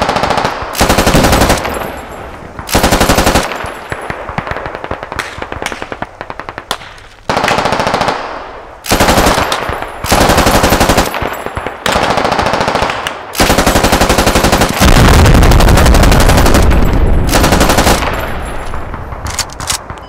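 A .50 caliber machine gun in the Squad video game lays down suppressing fire in the woods, loud sustained bursts of rapid automatic fire broken by short pauses, with a longer heavy stretch near the end.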